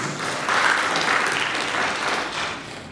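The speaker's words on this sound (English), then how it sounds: "Let us clap for him." A debate audience claps steadily after a vote count is announced, a dense, sustained round of applause from a crowded room that holds at a fairly even level for the whole stretch.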